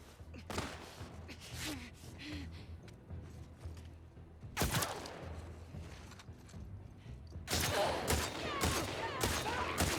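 Sniper gunfire in the video game The Last of Us Part II cracks out in a few sharp, loud shots spread across a tense scene. Pained gasps and groans come in between the shots.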